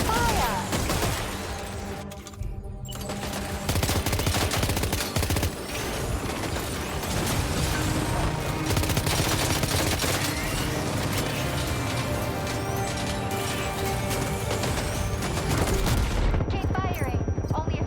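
Gunfire in the Death Stranding 2 video game, dense rapid bursts and repeated shots running almost the whole time, loud and busy with a brief lull early on.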